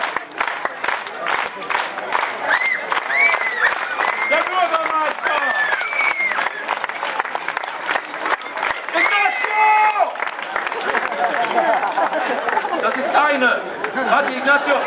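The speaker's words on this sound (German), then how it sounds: "Der letzte Applaus ist für dich" An audience at a street festival stage show applauds, with sustained clapping mixed with crowd chatter, cheers and shouting voices. The noise is fairly close and dense and rises and falls over the stretch.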